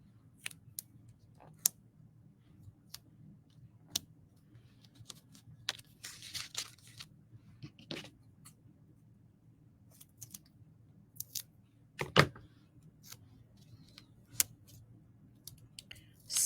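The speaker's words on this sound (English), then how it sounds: "here, we'll cut these in half." Scissors cut scrapbooking paper in half with scattered snips and crisp clicks, some closer together, over a quiet low hum.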